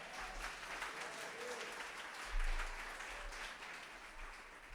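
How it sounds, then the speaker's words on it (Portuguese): Applause from a church congregation during a Portuguese-language sermon, a steady wash of clapping that swells briefly midway and carries on at a moderate, somewhat distant level. "Você pode aplaudir o Senhor e dar um glória."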